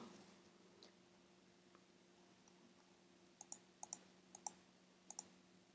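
Computer mouse clicks during a Linux install on Windows: one isolated click early, then several quick paired clicks close by, crisp and distinct over a low steady hum.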